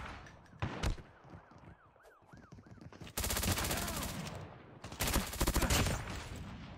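Gunfire in the mobile shooter Call of Duty Mobile: a few isolated shots, then two long bursts of rapid automatic fire, loud and dense, with a faint rising-and-falling tone and game effects underneath.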